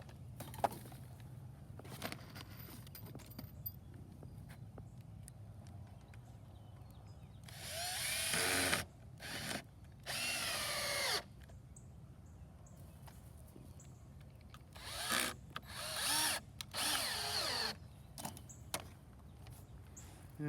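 Power drill driving 2-inch screws through 3/4 inch wooden fence pickets, heard as a couple of loud whirring bursts separated by quiet stretches of background noise.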